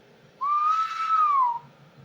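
A single steady whistle into a CB radio microphone, about a second long, clear and fairly loud against a quiet background, with no talking.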